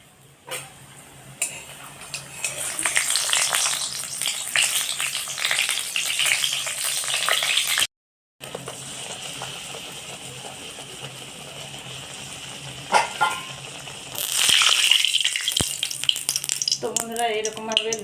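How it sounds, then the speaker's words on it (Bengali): Luchi, puffed flatbread, deep-frying in hot white oil in a wok, a steady close sizzle and crackle that swells louder as more dough goes in, with a brief break midway and a few clinks. "কড়া তেল গরম হয়ে গিয়েছে তেলের মধ্যে তো লুচিগুলো দেবো"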